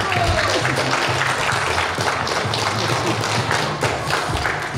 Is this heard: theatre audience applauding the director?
yes